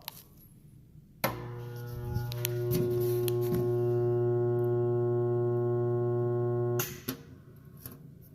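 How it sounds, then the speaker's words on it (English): A jammed kitchen garbage disposal starts with a sudden steady electrical hum that drones loudly for about five seconds with a few faint clicks, then cuts off abruptly, leaving a quiet room. "you'll listen to it kind of making humming noises, and then it'll shut off"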